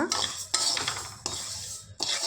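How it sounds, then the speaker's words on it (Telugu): Moong dal being dry-roasted in a pan for a sweet, heard as close scraping and stirring with metal utensil clinks, in bursts separated by short pauses. "ఇలా ఫ్రై చేసుకోవాలి"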